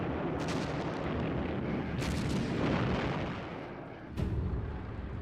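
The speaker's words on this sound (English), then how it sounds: "The attack on the German positions started with a savage 65-minute bombardment." Artillery bombardment sound effect of a savage barrage on German positions: a continuous roar of dense booming blasts, with sharper heavy thuds standing out, loud and without talk.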